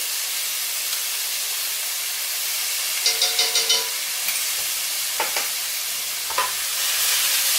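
Garlic sizzling in a hot pan while making chicken fettuccine Alfredo with broccoli, a steady loud hiss and crackle throughout, with a few scraping stirs of utensils.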